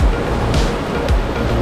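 Whitewater river rapids in Tennessee during a rafting trip, a loud continuous roar of rushing, churning water with bursts of splashing, close to the microphone.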